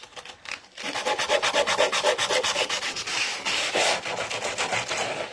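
Loud, rapid sanding against painted wood edges to distress them, a rough back-and-forth rasp in quick strokes with a brief pause near the start.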